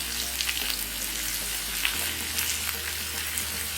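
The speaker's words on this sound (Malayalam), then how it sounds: "അതൊന്ന് വഴറ്റിയെടുക്കണം." Onions sauté in a frying pan while a sweet potato snack is prepared at home, giving a continuous close hiss and crackle with faint stirring scrapes and a low hum underneath.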